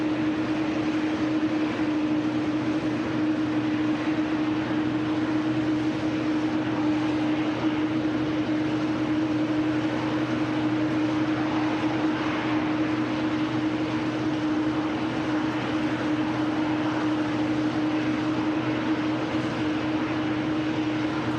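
Steady aircraft engine hum at Manchester Airport, a constant distant drone with a sustained tonal whine holding evenly throughout, no voices.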